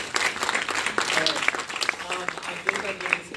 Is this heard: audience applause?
yes